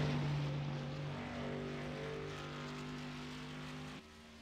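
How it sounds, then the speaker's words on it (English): A race car at Pocono Raceway drones steadily at a distance, its engine holding a sustained tonal whine that gently shifts pitch before dropping off sharply near the end, with no voices. "Got him coming up the backstretch at the moment. Carrying some good speed into the tunnel turn."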